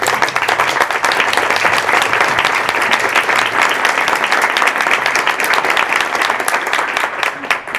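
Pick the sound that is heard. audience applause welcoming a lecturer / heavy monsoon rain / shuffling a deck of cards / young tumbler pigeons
audience applause welcoming a lecturer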